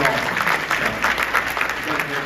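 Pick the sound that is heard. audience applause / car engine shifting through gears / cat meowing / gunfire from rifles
audience applause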